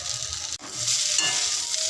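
Continuous close sizzling of flattened rice frying in a pan with cashews, raisins, carrot and capsicum, soft scraping of stirring and a brief clack near the start.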